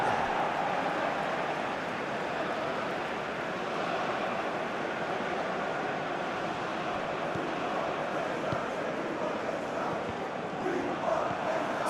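Football stadium crowd in the FC25 video game, a broad, steady roar of many voices that holds at an even level throughout, with a commentator's voice faintly over it.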